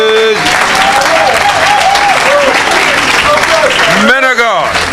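A church congregation applauds and cheers to acclaim Jesus, a dense, sustained wash of clapping from many hands, with voices calling out over it and a pitched shout rising near the end.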